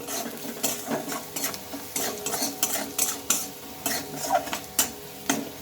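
Spiced filling of chilli powder, salt and turmeric stirred in a frying pan for steamed pitha, with repeated scraping strokes of a utensil against the pan over a soft frying sizzle, close and steady.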